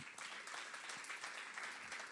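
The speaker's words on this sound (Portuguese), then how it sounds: "Uma salva de palmas ao Senhor." Audience applause at a church-style investment seminar, a steady burst of clapping filling the whole short moment with no voices over it.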